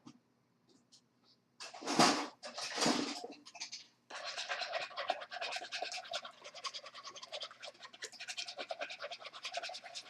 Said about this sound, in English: Let's whisk this together.